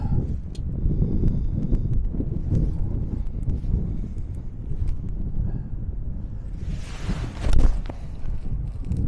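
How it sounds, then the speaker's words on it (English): Strong wind gusts across an open golf course, a steady low rumbling buffet on the microphone with a brief louder gust near the end and faint rustling underneath. "there's a lot of wind into us"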